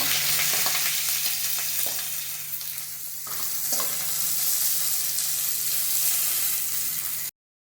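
Chopped onion sizzling in hot oil with mustard seeds for Vidarbha-style dahi misal, a steady close frying hiss with spoon stirring and scraping, the sizzle dipping briefly midway before rising again, then cutting off abruptly.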